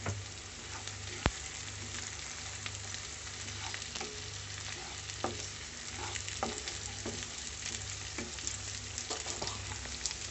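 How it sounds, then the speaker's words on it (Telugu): Masala being stirred into onions frying in oil for a mutton curry, a steady close sizzle with scraping spoon strokes and soft clicks against the pan, no voices. "ఉల్లిగడ్డలు బాగా వేగిన తర్వాత మనం దచ్చిపెట్టుకున్న మసాలా వేయాలి. దాంట్లో బాగా కలుపుకోవాలి."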